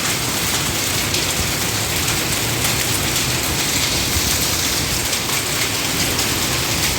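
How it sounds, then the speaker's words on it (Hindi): Heavy rain with hail pours outdoors, a dense, loud, unbroken hiss of drops pelting surfaces that stays steady throughout with no voices. "बारिश बहुत ज़्यादा है।"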